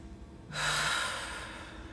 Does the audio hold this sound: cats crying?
no